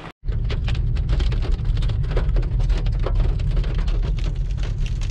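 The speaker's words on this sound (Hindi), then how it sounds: "और ये ओलावृष्टि स्टार्ट हो चुकी है," Hail pelts down on a street near Shimla in the Himachal hills, a loud, dense and steady roar of pattering impacts that starts abruptly after a brief gap and continues without talk.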